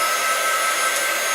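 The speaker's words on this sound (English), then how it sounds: "So I'm going to go ahead and just take my heat dryer," A heat dryer blows hot air over ink on a paper pumpkin craft, a loud, constant whirring hiss with a high motor whine, heard up close and alone.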